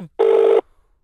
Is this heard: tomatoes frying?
no